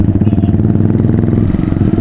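A motorcycle exhaust is revved close up, giving a loud, throbbing, pulsing engine roar that holds for the whole short stretch.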